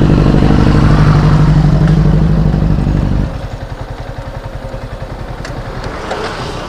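Loud, close roar of a Benelli 600i motorcycle engine through an SC Project exhaust, a steady high-revving howl that drops abruptly midway into a lower, throbbing idle-like burble.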